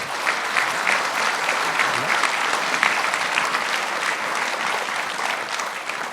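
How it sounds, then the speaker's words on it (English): Steady, dense applause from a sizable audience for a lecture panel, continuous clapping at even loudness throughout with no pauses. "a round of applause for the panel"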